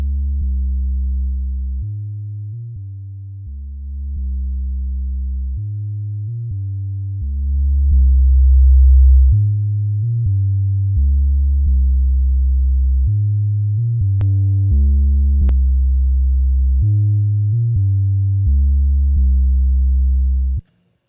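A saturated 808 bass in Ableton with its filter closed down, playing a dull, booming low pattern of sustained notes that change pitch in a steady rhythm, with only a few brief higher blips.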